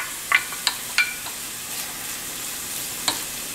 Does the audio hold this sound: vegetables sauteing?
yes